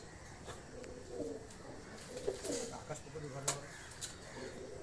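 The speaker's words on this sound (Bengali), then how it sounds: "আকাশদার ঘরের কবুতর এটা ইম্পোর্ট করা পুরো অরিজিনাল বিট" Soft cooing murmurs from Madras pigeons at low volume amid background noise and faint voices, with a few sharp clicks.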